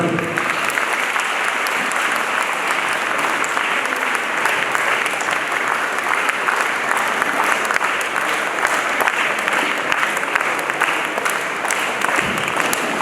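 Sustained applause from an audience at a jubilee celebration, dense steady clapping filling the hall at even loudness from start to finish with no talk over it.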